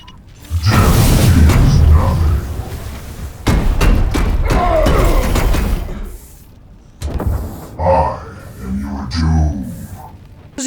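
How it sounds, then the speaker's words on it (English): A Dreadnought charges and slams through enemies in Chaos Gate - Daemonhunters, with heavy booming thuds and mechanical crashes that come in loud bursts, while someone talks over part of it. "the charge is very satisfying if you can line up quite a lot of enemies and just slam your way through"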